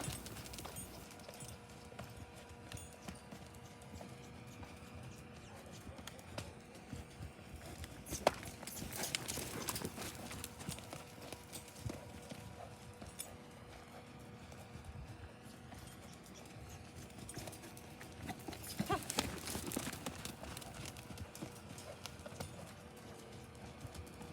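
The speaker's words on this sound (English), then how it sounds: "Just a few strides of a lope there, but that was all I was looking for." A young horse loping with a rider: soft, distant hoofbeats in a quick three-beat rhythm, swelling briefly twice over a quiet outdoor background, with no speech.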